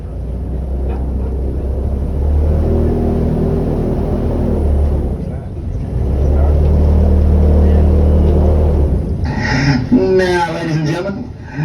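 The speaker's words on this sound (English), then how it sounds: "what we got back here is two 454 cubic inch motors from an old 77 Eldorado" Powerful rumbling drone of twin 454 cubic inch V8 motors, taken from a 1977 Eldorado and mounted in a boat, holds steady and loud throughout, with a short dip midway and a brief burst of laughter near the end.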